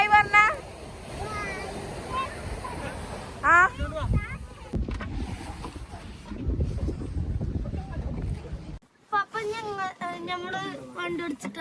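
Boat ride on the sea off Calicut, Kerala, with steady wind and water rumble running throughout, and voices talking over it near and loud, including a burst of excited chatter at the end.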